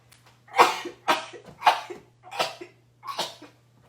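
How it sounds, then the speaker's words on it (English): Five sharp, forceful sneezes brought on by pepper while cooking, in quick succession, evenly spaced, close to the microphone, with a faint steady hum underneath. "Pepper's making me sneeze."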